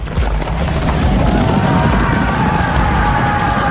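Cavalry horses gallop in a dense, continuous rumble of hooves, loud and close, with faint voices mixed into the churning noise.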